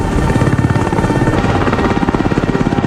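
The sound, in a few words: helicopter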